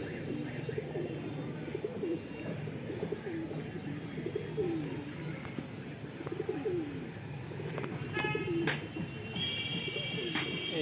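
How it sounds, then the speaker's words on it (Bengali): Domestic pigeons, including a small white one, coo softly and steadily in a backyard loft, with a few faint chirps and a brief flutter of wings near the end; no one speaks. "এই একটা ছোট সাদা কাগজি পায়রা দেখুন।"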